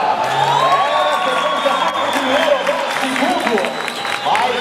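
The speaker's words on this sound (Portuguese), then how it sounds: "Cadê os aplausos, galera?" Spectators at a 2012 SuperBike Series round at Interlagos clap and cheer in a steady, dense wash of crowd noise, with voices and shouts mixed through it the whole time.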